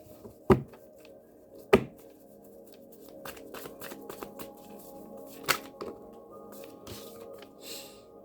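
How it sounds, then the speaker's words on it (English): Tarot cards are pulled from a deck: faint papery slides and soft rustling, broken by two sharp snaps early on and another a few seconds later, all close and quiet. "Now let's finish pulling from these cards."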